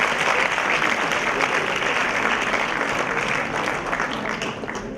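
Dense, sustained applause from an audience at a university induction programme in Rohtak fills the room, a steady wash of many hands clapping at once before easing slightly near the end.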